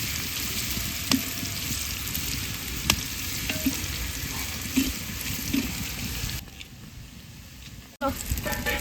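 Onions fry in oil with whole spices and dried chillies, a steady near sizzle dotted with small pops and stirring clicks. It fades and briefly cuts out before resuming.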